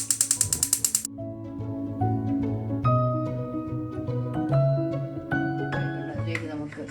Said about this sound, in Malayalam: പാത്രം അടുപ്പിൽ വെച്ച് സ്റ്റവ് കത്തിക്കാം